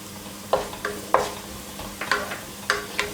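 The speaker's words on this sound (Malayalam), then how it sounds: "മഞ്ഞൾപ്പൊടി ചേർത്തിട്ട് മഞ്ഞൾപ്പൊടിയുടെ ആ ഒരു റോ സ്മെല്ല് മാറി വരുന്നത് വരെ ഇളക്കി കൊടുക്കുക." Turmeric powder fries in a pan for an egg masala curry, heard as a soft continuous sizzle with several quick, bright stirring scrapes spaced through it.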